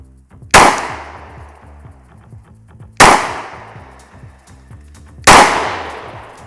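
Three loud, close gunshots from a Glock 20SF 10mm pistol firing Sellier and Bellot ammunition at a range, evenly spaced about two and a half seconds apart, each a sharp crack with a ringing decay.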